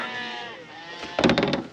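Sheep bleat on a farm, a wavering call at first followed by a louder, nearer burst of bleating from more than one animal toward the end.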